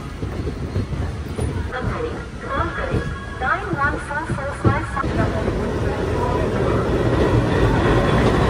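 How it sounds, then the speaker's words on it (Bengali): The 12311 Netaji Express rolls onward after pulling out of Prayagraj Junction in Uttar Pradesh, a continuous rumbling train noise with faint rhythmic clatter, and a person talks over the first half. "তো বন্ধুরা আমাদের ট্রেন ছেড়ে দিল উত্তরপ্রদেশের প্রয়াগরাজ জাংশন থেকে।"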